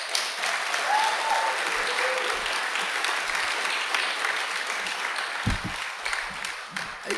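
Audience applauding the event organizers, a sustained, dense round of clapping from a crowd that holds steady for several seconds and then begins to thin, with a few voices heard faintly near the end.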